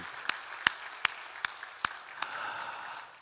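A church congregation applauds during a Sunday service, scattered claps building into a steady wash of applause toward the end, moderately distant and roomy.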